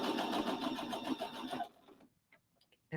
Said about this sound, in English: Now I'm going to sew, take it to the corner end right here.